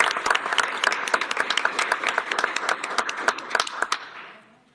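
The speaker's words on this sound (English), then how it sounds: "let's give a round of applause to the Minister." A board meeting audience breaks into a round of applause, many hands clapping in a dense, lively burst that continues for several seconds before tapering off at the end.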